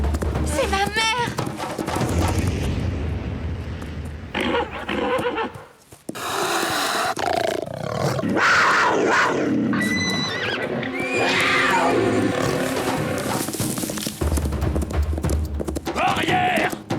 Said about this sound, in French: Un puma! Il attaque un de mes chevaux!